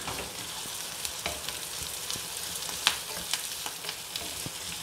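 Curry leaves and small onions fry in hot oil for a tamarind gravy with banana stem, a steady close sizzle with scattered sharp crackles and pops, no voices.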